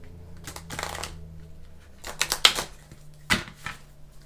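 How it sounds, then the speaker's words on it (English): Tarot cards are shuffled in three short riffling spells, crisp and close, with quiet pauses between them. "Let's give it one more shuffle."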